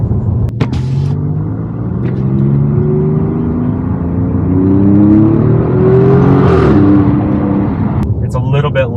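An Alfa Romeo Giulia Quadrifoglio with a TFL X-pipe and stock catalytic converters rumbles and revs, its exhaust note rising then falling as the engine climbs and settles, loud and steady throughout.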